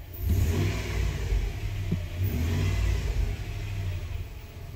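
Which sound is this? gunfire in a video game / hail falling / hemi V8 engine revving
hemi V8 engine revving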